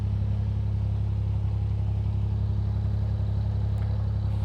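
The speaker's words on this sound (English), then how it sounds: "The engine's running smoother since I tightened my engine mounts" A narrowboat engine running steadily at idle with a deep, even throb, heard up close and continuous with no talk.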